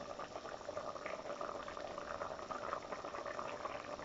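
Oxtail sauce finished with butter simmers and reduces in a pot, a soft, continuous bubbling that stays faint and even throughout.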